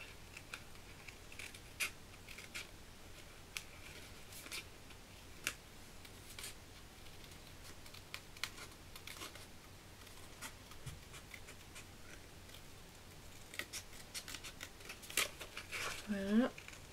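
Small scissors cutting a little paper teddy bear shape out for a handmade card: quiet, scattered snips and paper rustles close by over a low background hiss, growing a bit busier near the end.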